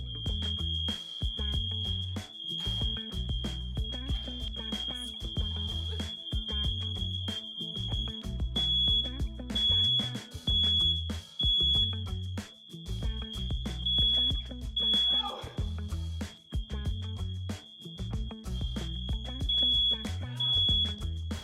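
A neighbor's smoke alarm sounds with no smoke present, a steady piercing tone over a cluttered, thumping room background, continuous and fairly faint throughout.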